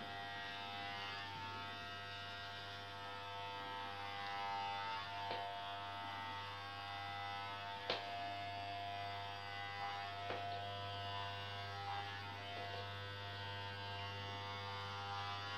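Electric shaver running steadily while shaving a head for a charity head shave, a continuous close buzzing hum with a few small clicks and bumps as it passes over the scalp.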